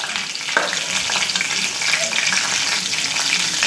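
Mustard seeds, cumin, curry leaves and asafoetida tempering crackle and sizzle steadily in hot oil in a pan, a dense, bright frying hiss that stays loud and close throughout, with no one talking.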